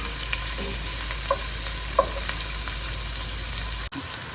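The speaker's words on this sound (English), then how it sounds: "I'm gonna go ahead and dump in the shrimp and let that cook for about a minute or so" Shrimp dumped into a very hot pan sizzle steadily in oil, a continuous close hiss with a few light utensil taps, ending in a brief cutoff.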